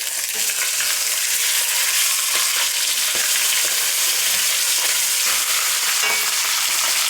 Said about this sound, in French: Alors maintenant, on va pouvoir retourner donc la viande.